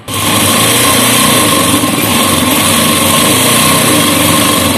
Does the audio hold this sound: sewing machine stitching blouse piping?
yes